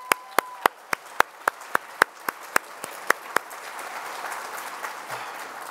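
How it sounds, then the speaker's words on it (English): At a scholars' honors ceremony, a few sharp, evenly spaced claps ring out, then swell into a softer, dense wash of audience applause. "One more round of applause,"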